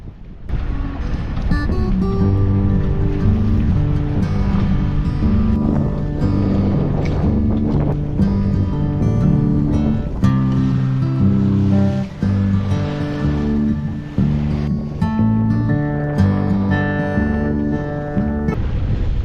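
Steady rushing wind and water noise from a sailing yacht in blustery wind in the Sound of Mull, Scotland, with continuous buffeting and sloshing throughout, no voices.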